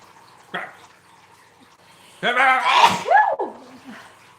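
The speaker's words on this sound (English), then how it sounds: "I have to sneeze." A sharp gasping intake of breath followed by a loud, close sneeze, with a short voiced sound trailing after; a brief vocal noise precedes it.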